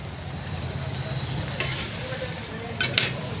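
Biryani masala with chili powder sautéing in a pan, a steady close sizzle with stirring scrapes and a couple of sharper clinks near the end.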